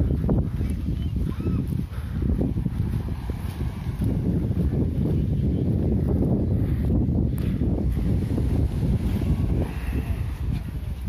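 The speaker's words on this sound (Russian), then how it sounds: "Очень ветрено." Strong wind buffeting the microphone on a sandy beach in Alanya, Turkey, a loud continuous low rumble with gusty surges and faint surf beneath, no talk.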